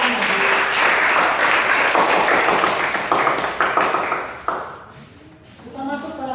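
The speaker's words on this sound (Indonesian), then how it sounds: "Oke, berikan tepuk tangan." Classroom applause in an Indonesian junior high school math class, a dense burst of hand clapping from students that fades out toward the end, with a voice mixed in.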